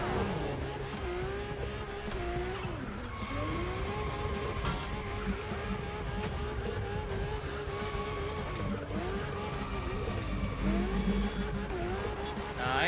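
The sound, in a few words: video game drift car skidding with tire squeal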